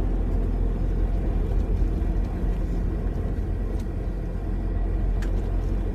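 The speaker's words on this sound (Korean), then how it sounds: "차 소리가 많이 들릴까봐 걱정인데." Steady low rumble of road traffic and engine noise inside a moving bus, continuous and fairly loud throughout with faint higher hiss above, and no talking.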